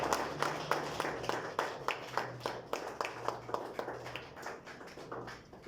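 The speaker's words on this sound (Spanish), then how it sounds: "Dale un fuerte aplauso al Señor." A congregation at a Thursday church service claps in a steady, rhythmic beat, roughly three claps per second, close and fairly loud for the whole stretch, with a low hum underneath.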